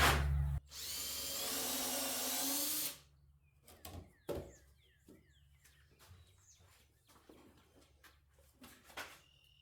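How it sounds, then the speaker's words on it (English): A power drill pre-drills a hole into the back leg of a wooden bench, making one loud, steady whirring burst of about two seconds up close. Afterward, birds chirp and tweet outdoors over faint background noise. "I'm going to pre-drill a hole from the either side of this going into this back leg right here"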